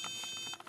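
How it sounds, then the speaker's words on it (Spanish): A buzzer on an educational robot car gives a quick run of short electronic beeps, close and fairly clear, the pulses breaking up toward the end of a very brief burst. "usar el zumbador, que es un pitidito"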